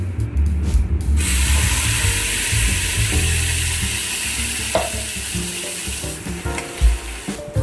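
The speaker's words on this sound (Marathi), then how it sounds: "पेस्ट मी आता डायरेक्टली भांड्यातूनच कढईत उतरवते" Peanut paste hits a hot wok and sizzles loudly, a continuous bright frying hiss with scraping and stirring clatter through it.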